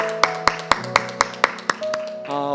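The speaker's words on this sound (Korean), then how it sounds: "우리 하나님께 영광의 박수 올려드리겠습니다" A church congregation claps after a prayer, with eight sharp, evenly spaced claps over sustained organ or keyboard chords that carry on afterward.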